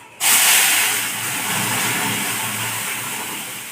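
Boiled lentils poured into a hot pan of spiced oil tempering for mango dal, giving a sudden loud sizzle and hiss that stays steady and close for several seconds, with no talking.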